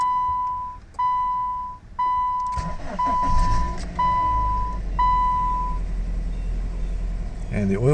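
A car engine is started after an oil change: repeated dashboard chimes give way to a starter crank and the engine catching into a steady, fairly loud idle, close by.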